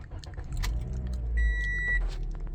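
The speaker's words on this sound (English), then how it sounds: "that's how it cranked up this morning" A car sits idling with a low, steady engine rumble, close by. Keys rattle, a short electronic beep sounds partway through, and the engine note swells slightly toward the end.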